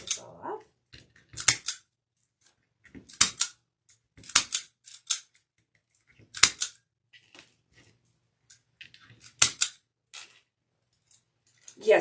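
Scissors cut deco mesh for a wreath on a large wreath-making board, giving close, crisp snips in irregular bursts with quiet pauses between them.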